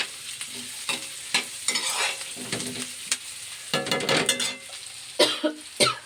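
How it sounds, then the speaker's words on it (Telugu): Someone coughs several times, close by, over a stirred tempering frying in a pan. The hot-oil sizzle comes in bursts between the scraping of the spoon. No speech is heard. "దగ్గు వచ్చేస్తుంది"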